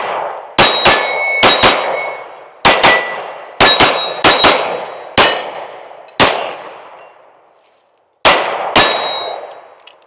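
Sharp gunshots from a compact metal-frame S&W M&P 3.6-inch pistol ring out in quick pairs and singles at an outdoor range, each crack loud and close with a ringing metallic clang from steel targets decaying after it.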